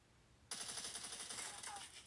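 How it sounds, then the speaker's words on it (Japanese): Rapid gunfire aimed at the player in a video game, a sudden dense burst of repeated shots that starts abruptly and runs steadily for over a second and a half at fairly close range, with no talking. "あ、待って待って、撃たれてる撃たれてる。"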